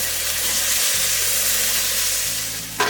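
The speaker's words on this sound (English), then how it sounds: "I let that garlic cook in there for about a minute" Minced garlic sizzles with onions in a pot for a copycat tomato soup, a steady, close frying hiss with no talk.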